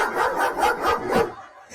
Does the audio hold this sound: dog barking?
yes